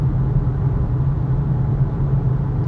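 Steady low rumble of road and tire noise inside a Volvo XC40 69 kWh FWD electric car rolling on Continental winter tires, a continuous loud drone with no breaks and no talk.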